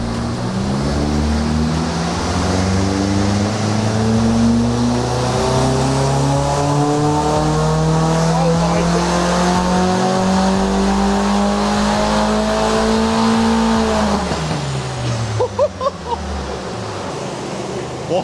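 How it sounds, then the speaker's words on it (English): Tuned VW Fox engine revving hard on a dyno during a power run, loud and close, rising steadily in pitch over about fifteen seconds before lifting off and dropping away. "After getting the car fully mounted up on the dyno, we could do power run number 1."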